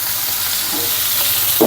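Fish pieces frying in a pan on a stove give a steady, loud hiss of oil with no talk, running unbroken for a brief moment.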